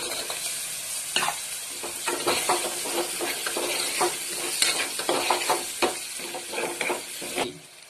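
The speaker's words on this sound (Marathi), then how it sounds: "चांगलं परतून घ्यायचं. मग त्याच्यामध्ये बटाटा घालायचा." Potatoes sauté in a pan with frying sizzle and repeated scraping stirs in a quick, uneven rhythm. The sound is close and clear, with no voices, and it stops abruptly at the end.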